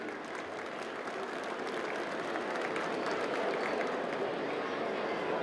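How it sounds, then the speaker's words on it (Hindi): A crowd applauds loudly and steadily to welcome India's sports minister at the opening of the Delhi Olympic Games 2024, a dense wash of clapping that holds level from start to finish. "तो एक बार जोरदार तालियां बजा के उनका वेलकम कीजिए।"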